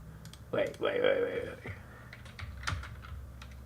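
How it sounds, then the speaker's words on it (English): Computer keys clack in quick bursts of typing at a desk with two PCs running, crisp clicks scattered across a few seconds alongside a voice speaking. "So I tapped on the wrong keyboard."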